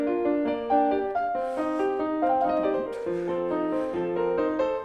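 A modern piano plays a flowing Mozart sonata passage of quick melodic notes over soft accompaniment, heard clearly and at moderate volume with no talking.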